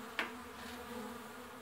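Bees buzz faintly around a wine barrel hive, a low steady drone with one brief closer pass near the start, quiet and without voices.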